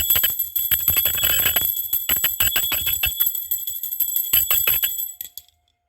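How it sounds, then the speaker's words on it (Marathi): A puja bell rings continuously during a daily home worship ritual at a household shrine, with a bright, rapid metallic clanging and sustained shimmering overtones. It is loud and close for about five seconds, then stops abruptly. "घंटी"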